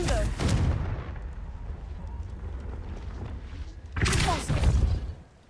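The Confringo blasting spell going off in Hogwarts Legacy, two heavy explosive booms with rumbling tails, one at the start and another near the end, over a low roar.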